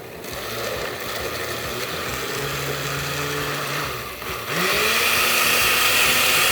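A blender whirs steadily as it purées tomatoes, vinegar and salt into taco sauce. The loud, continuous motor drone runs with no talk, and its pitch rises and strengthens after a brief dip near the end.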